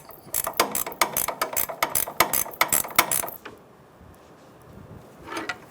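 A ratchet snugs down the upper ball joint during front CV axle replacement on a 2014-2018 Chevrolet Silverado 1500, giving a close run of rapid, loud clicking strokes for about three seconds, then quiet with one faint later burst.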